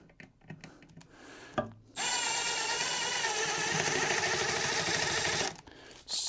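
A screw is power-driven into a stripped screw hole in a wooden chair seat, a steady loud whirring grind lasting about three and a half seconds after a few faint handling knocks, with no talk.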